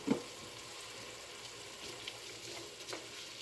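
Jasmine rice and raisins in a pot of water simmer with a faint, steady bubbling hiss, a clink of a spoon at the start and a few soft stirring sounds.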